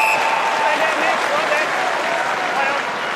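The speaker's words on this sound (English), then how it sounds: "Some applause." Steady applause from a distant crowd at an Australian football match, GWS versus St Kilda, a continuous even patter of clapping filling the whole moment.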